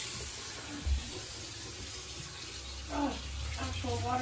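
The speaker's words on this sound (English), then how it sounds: "Let's turn on the other one." Water running from a newly installed bathroom vanity faucet, a steady faint hiss with a soft thump and a few brief voices in the room.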